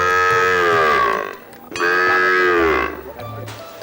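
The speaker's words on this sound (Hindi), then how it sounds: "ये तो गाय के बछड़े हैं।" Calves mooing in two long, drawn-out bleating calls, close and loud, with a brief pause between them and faint low rumbling underneath.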